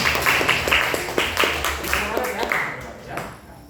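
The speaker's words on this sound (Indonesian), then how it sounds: "Tepuk tangan buat kamu" Classroom applause for a student who answered correctly, a short burst of many hands clapping close by, tapering off over a few seconds with voices underneath.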